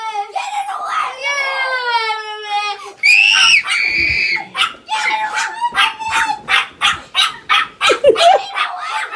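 A dog barks in a rapid string of sharp, loud barks, preceded by high yelping whines and screams, with a person talking at the dog in between.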